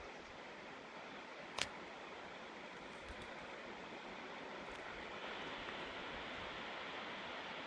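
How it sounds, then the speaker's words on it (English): Broad steady rushing water from several waterfalls pouring down cliffs at a summer solstice campsite, a continuous distant roar with one brief sharp click near the start. "Look at all those waterfalls rushing down the cliffs up there."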